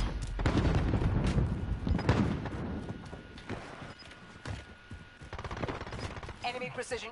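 Rapid close gunfire in a Call of Duty Modern Warfare match, including shotgun blasts, with dense overlapping shots and bursts throughout, some brief quieter gaps and faint voices.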